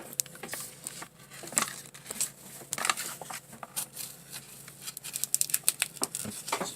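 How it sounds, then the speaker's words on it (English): Cutco scissors snip through material while a grow-light lamp tray is assembled, giving a scatter of close, crisp clicks and crinkly snips in irregular bursts, busier toward the end, with no talk. "trusty dusty Cutco scissors. I'm gonna cut this thing right here."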